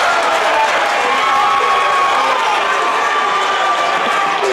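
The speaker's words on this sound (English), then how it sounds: "I got the crowd going there." A basketball crowd at a men's college game roars and cheers after a slam dunk, a sustained loud wash of voices and whistles with a commentator talking over it.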